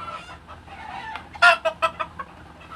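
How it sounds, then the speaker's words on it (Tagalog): Chickens clucking close by, a burst of sharp, rising clucks and squawks after a quieter stretch of softer bird chatter, fading out toward the end. "Huwag kayo maingay, manok."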